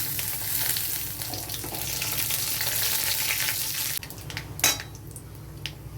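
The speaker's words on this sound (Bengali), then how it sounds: "তেল গরম হয়ে গেছে, এবারে আমি জিরা, তেজপাতা সম্বারে দিয়ে দিচ্ছি" Cumin seeds and bay leaf tempering in hot oil for a fish-head muri ghonto, a loud bright sizzle that drops suddenly partway through, followed by a utensil clink and a quieter fry.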